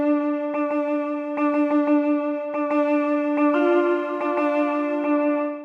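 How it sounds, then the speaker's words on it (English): Synth line from UVI Energy played in a minor pentatonic scale, a sustained bright tone with rhythmic gated pulses in sixteenth and quarter notes, shifting pitch partway through, loud and alone. "it controls another instrument, UVI's Energy. Here I'm using the minor pentatonic scale,"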